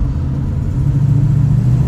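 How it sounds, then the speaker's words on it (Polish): A 1968 Ford Mustang engine rumbles with a loud, deep, steady note as the throttle is pressed, and no voices are heard. "To brzmienie to jest tak naprawdę poza stylistyką najfajniejsza część tego samochodu potężny bulgot"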